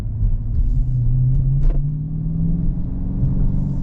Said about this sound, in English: I'll just give you a sound of this engine. This from the inside. This is in normal mode.